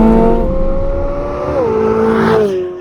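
Chevrolet Corvette C8 Z06 with a dual-clutch gearbox accelerating hard with wheel spin, a loud, close engine roar climbing in pitch, easing briefly at a shift and then pulling again.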